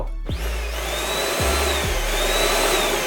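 A PERYSMITH Xtreme Series X10 cordless vacuum cleaner switches on, its motor spinning up with a rising whine, briefly dipping, then settling into a loud, steady high-pitched roar up close.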